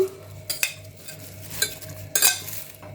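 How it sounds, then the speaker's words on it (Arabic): Tomatoes and onions are being mixed together in a bowl, giving a few soft wet stirring and scraping bursts spaced irregularly over a faint low background hum, with no talking. "عايزة امسك الطماطم مع البصل ونمسكهم كده مع بعض نخلطهم حلو"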